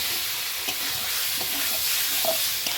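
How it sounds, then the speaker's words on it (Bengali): Chopped tomatoes being stirred into frying spices in a pan for a new-potato egg curry, giving a loud continuous sizzle with soft scraping stirs. "এখন আমি এই যে কেটে রাখা যে টমেটোগুলো এগুলো দিয়ে দেবো এগুলো একটু ভালোভাবে নাড়াচাড়া করে নেব মশলার সঙ্গে"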